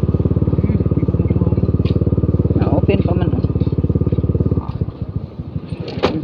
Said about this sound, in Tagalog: Masulod ang motor dito brad.